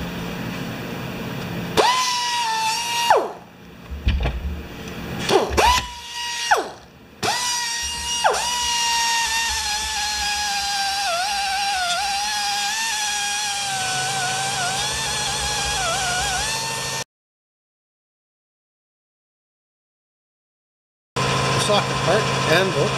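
Air-powered tools run in a workshop. A few short bursts of high whining come first, then one long steady run, a sudden stretch of silence, and the whine starts again.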